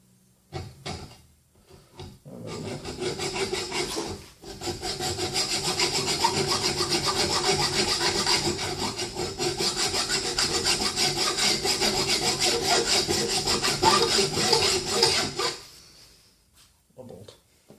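A hand hacksaw cuts through a regular grade 5 steel bolt with rapid, rhythmic back-and-forth rasping strokes, close and steady for about thirteen seconds, then stops, with a few clicks and handling noises before and after.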